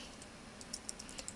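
Quick bursts of typing on a computer keyboard, a handful of crisp key clicks close up over a faint steady hum, no voices.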